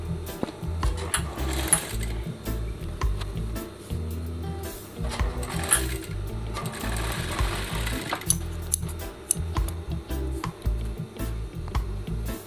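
Sewing machine backstitching a shirt cuff, a steady close mechanical chatter with rapid needle stitching and short pauses and restarts, loud and without speech.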